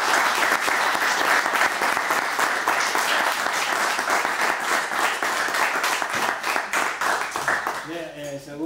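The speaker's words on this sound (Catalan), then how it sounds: "Un aplaudiment" An audience bursts into sustained, dense applause after a literary lecture, loud and even throughout, fading slightly at the very end as a voice begins speaking.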